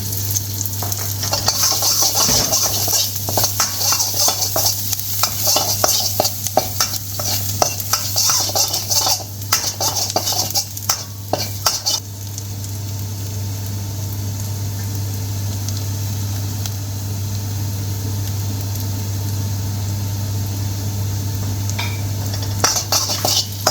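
Fresh garlic, two to three cloves, and onion frying in an oil-slicked pan for a restaurant-style chicken and vegetable stir fry, giving a loud, steady sizzle with busy stirring and scraping early on, then a smoother hiss, with no talking.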